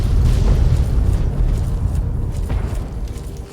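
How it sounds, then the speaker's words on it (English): A deep, rumbling explosion roars in Fallout 3, a loud sustained boom with crackling debris that slowly fades. "lots more explosions."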